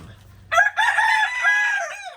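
A broody hen sitting on eggs clucks and cackles close by in a drawn-out, harmonic-rich run of calls lasting about two seconds, with no talking.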